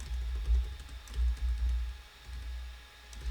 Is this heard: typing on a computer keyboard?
yes